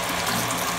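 A Zagonel Prima Touch electric faucet runs steadily as its temperature is adjusted, giving a close, continuous stream of water with a faint mechanical clicking underneath.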